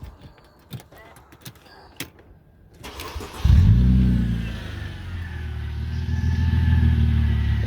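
A broken Mercedes with half its exhaust missing cranks and fires up after some light clicks and handling noises, then settles into a loud, rough, rumbling idle.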